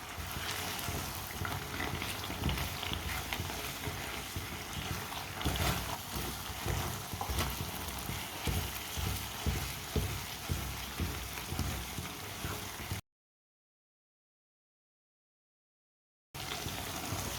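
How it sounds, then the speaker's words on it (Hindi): A spoon stirs makhandi halwa as it cooks in a pan, making a dense, close sizzling hiss with scraping strokes. The sound cuts out into a few seconds of silence, then briefly resumes. "अब इसे ऐसे ही चम्मच चलाते हुए पकाना है।"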